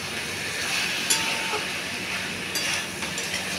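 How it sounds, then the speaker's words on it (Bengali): Potato pieces fry in a pan until reddish, giving a soft, even sizzle with a few light metallic clinks and stirring scrapes close by. "এরকম করে লাল লাল করে ভাজতে হবে"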